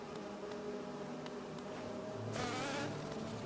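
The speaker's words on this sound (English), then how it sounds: "Oh my gosh, a cannon bee?" A cannon bee enemy in Hollow Knight buzzes faintly over quiet game ambience, then a brighter, louder hissing burst takes over in the final second.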